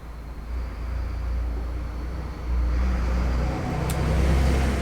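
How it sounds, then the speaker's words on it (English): A big lorry drives past outside as a steady, low-pitched road rumble. The rumble swells and holds throughout, with no voices over it. "Oh, big lorry's gone past, sorry if you can hear that."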